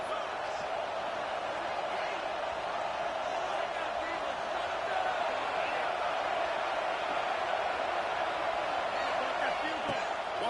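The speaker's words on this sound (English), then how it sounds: "This crowd still bringing the intensity to open the second half." A football stadium crowd roars in a dense, continuous wash of cheering during a game, steady and loud throughout with no distinct breaks.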